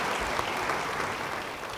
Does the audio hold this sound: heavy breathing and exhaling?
no